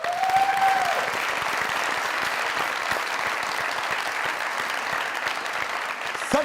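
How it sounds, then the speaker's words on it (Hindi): Studio audience at a comedy talk show giving sustained applause for a guest, a dense steady clapping wash filling the room, fairly loud and continuous. "अरे उस शख्स के लिए बहुत सारी तालियां"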